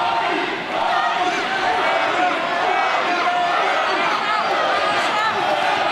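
Loud, steady crowd roar from spectators at a cash-prize fight between Ryan Atkins and Turner Ormsby, continuous throughout with bursts of shouting and a commentator talking over it.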